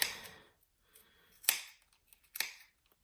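Sharp scissors snip through yarn while a pom pom is trimmed and shaped, three crisp close cuts spaced about a second apart, each with a bright metallic bite, with quiet pauses between them.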